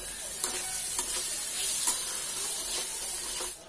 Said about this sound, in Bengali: চাল থেকে চিটিপিটির আওয়াজও বেরোতে শুরু করেছে